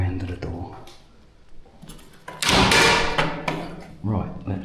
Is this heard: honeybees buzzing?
no